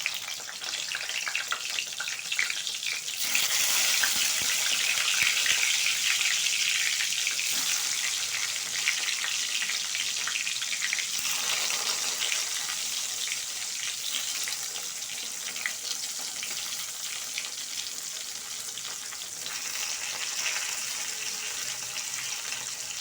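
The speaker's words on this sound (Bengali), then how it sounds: "তেলটা আবার গরম হয়ে গেছে, বেগুনগুলো দিয়ে দিচ্ছি।" Pieces of eggplant fry in hot oil with a loud, dense, hissing sizzle that runs steadily throughout and swells sharply as they go in.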